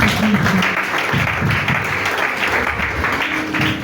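A church congregation applauds in a dense, continuous wash of clapping that fills the whole stretch at steady loudness, with some voices mixed in.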